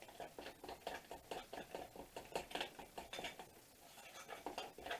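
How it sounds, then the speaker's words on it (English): Cornbread batter with butter, Crisco and milk being stirred in a bowl, a steady rhythmic patter of quiet spoon strokes repeating evenly and softly, with no talking. "Start stirring it in"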